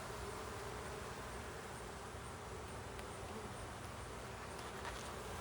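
Honeybees fan their wings inside a warm hive, giving a steady dense buzzing hum that stays even and continuous throughout, with no voices.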